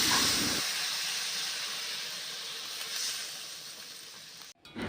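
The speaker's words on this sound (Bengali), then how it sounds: "এখন কড়াইয়ে জল ঢালবো।" Water poured into a hot kadai hisses and steams loudly and close, a broad continuous rush that slowly fades before a sudden brief break near the end.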